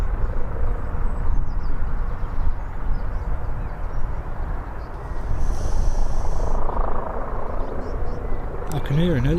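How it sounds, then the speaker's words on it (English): A helicopter passes overhead near Birmingham Airport, a steady low rumbling drone that swells slightly midway and persists throughout, with a voice talking over it. "I can hear an helicopter,"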